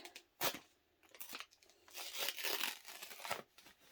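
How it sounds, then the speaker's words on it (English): Sublimation tape peeled off a customized plush fox stuffed animal, giving several crisp tearing and crinkling pulls in irregular bursts, close and fairly loud, with no talking. "peel that tape off and do a little peek"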